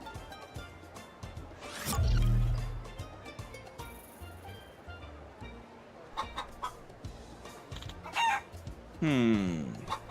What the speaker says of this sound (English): You can hear the chickens talking?